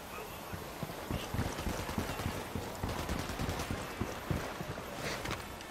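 Gunfire in Ghost Recon Wildlands rattles in rapid bursts over continuous game ambience, the shots sounding mid-distance and dense with no speech.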